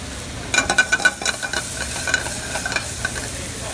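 Chicken pieces sizzle and fry in a pan for a crisp sauté, a steady close hiss with a quick run of stirring or scraping clatters near the start and no talk.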